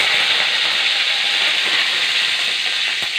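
Mustard seeds splutter and sizzle in hot oil while potato varuval cooks, a loud, steady, close hiss with faint crackles running unbroken throughout.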